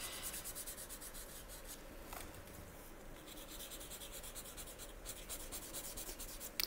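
A felt-tip marker fills in a flat area of colour on paper, its tip rubbing in a close, continuous scratchy squeak broken by brief lifts of the pen.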